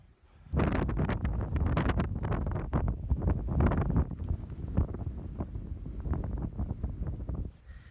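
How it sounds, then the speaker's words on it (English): Strong wind on the summit of Braeriach in the Cairngorms buffets the microphone in loud, gusty roars that rise and fall continuously, with no voices. "It's definitely windy up here today."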